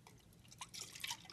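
Milk poured into a measuring cup while making French toast, faint soft liquid trickling and dripping in short bursts, growing slightly brighter toward the end.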